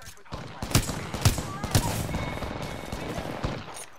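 Sharp gunshots in the video game Apex Legends, a few loud cracks in the first two seconds followed by quieter scattered fire and game noise, with a voice speaking briefly.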